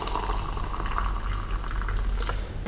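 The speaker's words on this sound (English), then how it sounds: "hot water close to boiling" Hot water close to boiling, heated on a bench setup for oxidising propanol in a boiling tube, gives a steady, close bubbling and hissing roar that carries on unbroken.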